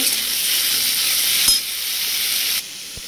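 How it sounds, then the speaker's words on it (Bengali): Onion and garlic frying in oil in a pan while making a Bengali fish-head murighonto, a loud close hiss of sizzling that drops sharply in level partway through, with a couple of faint knocks and no talk. "এর মধ্যে পেঁয়াজ রসুন সব কিছু দিয়ে দিয়েছি, এবার ভালো করে ভেজে নেব।"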